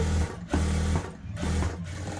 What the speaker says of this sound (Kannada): ಇದನ್ನು ನಾನು ಡಮ್ಮಿ ಸ್ಟಿಚ್ ಹಾಕಿ ತೋರಿಸ್ಕೊಡ್ತೀನಿ